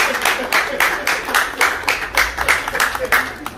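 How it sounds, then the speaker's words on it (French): Guests at a Congolese wedding celebration clapping loudly in a regular rhythmic beat, with repeated strong claps that sound close and full. "Est-ce qu'on peut applaudir très très fort?"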